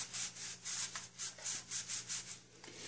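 A green Scotch-Brite pad scrubbing the bottom of an alcohol stove, a close rhythmic back-and-forth rasping in about ten quick, even strokes, with no talking.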